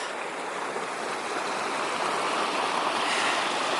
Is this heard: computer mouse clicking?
no